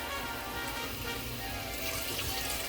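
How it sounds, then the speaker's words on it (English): Stock and water are poured slowly into a gumbo pot, a continuous soft trickle of liquid running under a steady wash of noise. "Gonna add our stock and water. Try to pour it in as slowly as you can."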